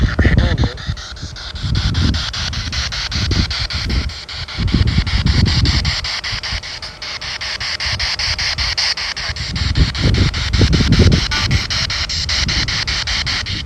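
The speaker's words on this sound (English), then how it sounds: "the wind picked up" Wind gusting through trees at a forgotten cemetery in the woods, a steady broad rush with swelling low-end buffeting and some microphone rumble across the whole stretch, no speech.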